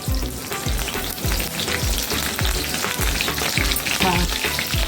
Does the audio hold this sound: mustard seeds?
yes